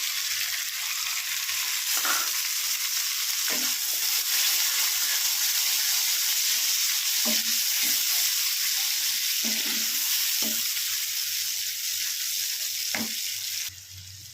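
Cashew and melon seed paste sizzling in a pan for shahi paneer masala, a dense steady hiss with occasional spatula knocks and scrapes, close and loud throughout before dropping off at the end.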